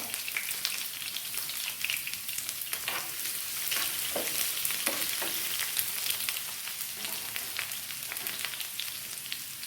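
Four pieces of onion dropped into two tablespoons of hot coconut oil, giving a bright, steady crackling sizzle close at hand that holds throughout with faint occasional stirring and no voices.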